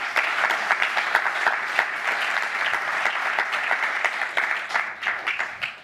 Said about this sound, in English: How about one more round of applause for the ops team?